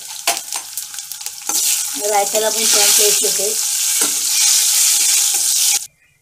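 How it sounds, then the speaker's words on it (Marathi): Garlic and curry leaves hit hot oil for a tempering for mango raita, bursting into a loud, sustained sizzle with stirring crackles before it cuts off abruptly; someone speaks briefly over it. "लसूण आणि कढीपत्ता मी एकदमच टाकणार आहे"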